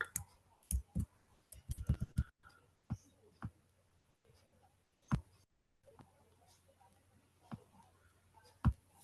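Sparse, sharp clicks of typing on a computer keyboard come in irregular bursts with quiet gaps between them, close and fairly faint.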